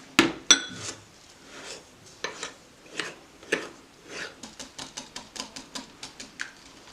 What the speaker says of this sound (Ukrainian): Потім гарно змішуємо цукер з яйцями.